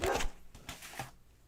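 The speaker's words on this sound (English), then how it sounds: "I don't know if you guys can hear him barking like the crazy dog that he is" A few faint dog barks in quick succession, somewhat distant and muffled, with a quieter yip afterward.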